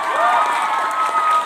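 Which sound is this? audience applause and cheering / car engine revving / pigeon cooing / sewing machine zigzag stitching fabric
audience applause and cheering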